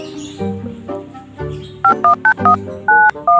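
Telephone keypad tones beep in a quick, irregular run of short, loud notes, preceded by low electronic rumbles, with no talking.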